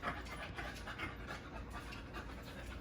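A scent detection dog pants steadily and close by during an interior converging odor search, a continuous rapid breathy rhythm throughout with no speech.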